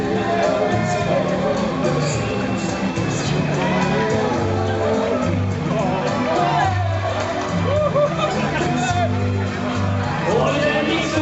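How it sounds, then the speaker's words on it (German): A large crowd of spectators at the finish of the Frankfurt J.P. Morgan Chase corporate run 2014 cheers and applauds runners coming in, a steady dense roar of voices and clapping over a continuous low hum. "Applaus vom Publikum für euch"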